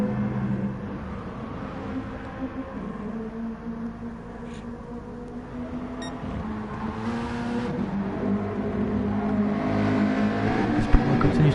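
Several GT2 race cars in GT Sport at Sardegna or Laguna Seca, Porsches and McLarens among them, drone and rev continuously at a moderate distance, with rising and falling engine pitch throughout and no talk over them.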